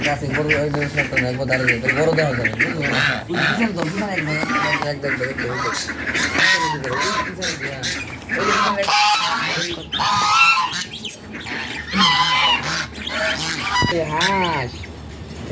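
A flock of ducks on a small farm quacks and honks loudly nearby, overlapping calls in busy bursts, with people talking at the same time.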